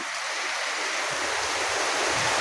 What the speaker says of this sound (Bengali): তো বর্তমানে যে পরিমাণে বৃষ্টি হইতেছে